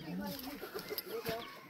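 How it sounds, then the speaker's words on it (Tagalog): A chicken near a farmhouse clucks in short, faint bursts against low background noise, with what sounds like quiet voices mixed in. "Manok."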